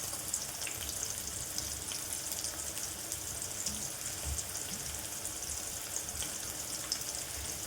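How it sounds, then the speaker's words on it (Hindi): Onions fry in a pan with a steady, soft sizzle and crackle, close and continuous, with faint pops scattered throughout and no talking. "तो प्याज मेरी देखो फ्रेंड्स फ्राई हो चुकी है।"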